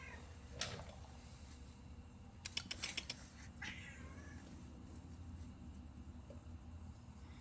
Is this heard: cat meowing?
yes